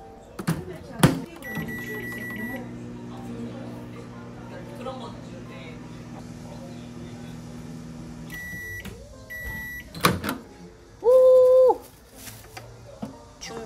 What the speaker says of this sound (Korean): 요거 전자레인지에 3분 돌려볼 예정입니다.